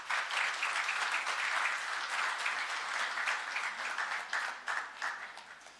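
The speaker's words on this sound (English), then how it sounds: "another round of applause" A business summit audience in Kisumu, Kenya gives a round of applause after a speech. Dense, even clapping from many hands holds steady throughout, tapering slightly toward the end.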